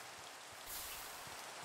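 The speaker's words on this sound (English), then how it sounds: "Just because of the rain?" Steady rain falling in the Minecraft video game, a soft continuous hiss with a slight swell partway through, heard alone with no voices.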